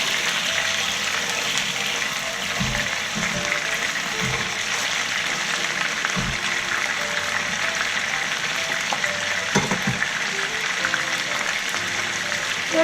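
Steady, even frying sizzle of chicken tocino cooking in a pan, a continuous soft hiss with occasional small pops and clicks, close and alone throughout.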